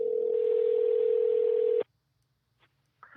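A telephone dial tone hums steadily and clearly for nearly two seconds, then cuts off abruptly into near silence, followed by a faint tap and a brief soft sound at the end.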